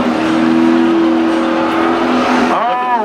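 Drag racing cars at Seekonk Speedway roar loudly at spectator drags on Memorial Day, a strong sustained engine note that then rises sharply as a car accelerates, with a race announcer talking over it.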